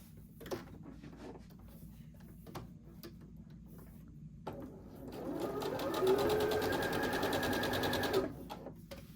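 A sewing machine runs a quarter-inch seam while piecing a pinwheel quilt block, with light ticks and handling clicks at first, then a sustained stitching whir for several seconds that stops abruptly.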